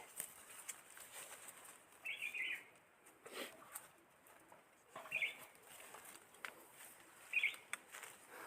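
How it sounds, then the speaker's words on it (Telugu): Three short kuru bird calls ring out at intervals over a quiet forest background, clear but moderately distant. "కూరు పిట్టల సౌండ్ బాగా వినిపిస్తుంది"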